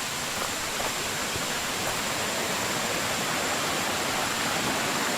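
Water pours steadily at the Waterfall 7 Puteri on the Bukit Madei Gombak hiking loop, a dense, unbroken roar like rushing white noise that stays even and fills the space throughout.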